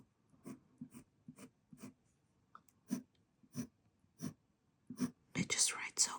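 A fountain pen scratches across Aerofol paper in short, evenly spaced strokes, close and quiet, ending in a denser burst of scribbling.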